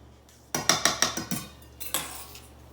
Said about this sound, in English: After that, we mix in the baking powder, yeast, and go ahead and mix this nicely.